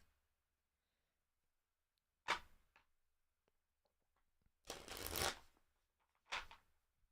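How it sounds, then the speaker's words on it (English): A deck of playing cards is shuffled at a tabletop role-playing game session in several separate bursts of riffling and bridging, crisp and close, with quiet pauses in between and no talking. "Alright, let's shuffle them back in."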